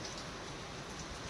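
Steady rain falls across the whole stretch, an even, dense hiss of drops with no voices and no break in the sound.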